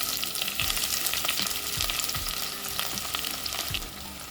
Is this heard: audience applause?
no